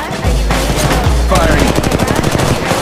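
Automatic gunfire in the Apex Legends battle royale game rattles in fast, steady bursts, loud and close, with a deep low rumble underneath and brief pauses between strings of shots.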